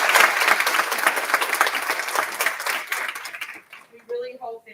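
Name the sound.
applause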